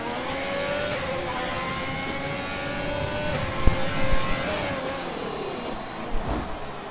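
Formula 1 race cars lapping Monaco in F1 2020, a steady whining engine drone holding throughout with rising and falling pitch as cars shift gears, plus a couple of sharper bumps near the middle and end.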